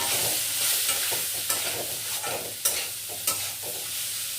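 Chopped onion sizzles steadily in hot oil in a pan for a mutton dish, with a continuous bright hiss and a few sharp clicks of a spatula being stirred.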